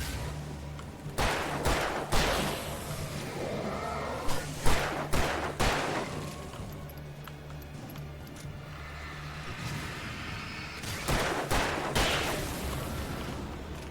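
Hip-fired gunshots from a handgun in the survival horror game Alan Wake 2, a string of sharp bursts in irregular clusters over a steady ambient drone, a quieter lull midway before more shots near the end.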